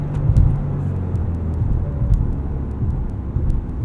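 A 2019 Maserati Levante Trofeo with a 590 HP engine putters along in eco mode, giving a steady low rumble from inside the cabin with slight swells and a few faint clicks.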